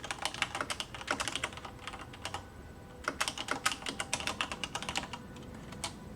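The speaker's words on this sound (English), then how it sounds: "I have a mechanical keyboard that comes through pretty loud in WebEx on work calls" Rapid clicky typing on a mechanical keyboard, close and fairly loud, in irregular bursts of keystrokes with brief pauses between words.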